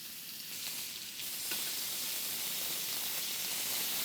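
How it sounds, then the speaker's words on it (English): Meat sears fat side down in a hot pan, the fat crisping with a steady, loud sizzle and hiss that swells after the first second and holds evenly, no voices over it. "And you want that fat to crisp, take on some more flavor from the pan."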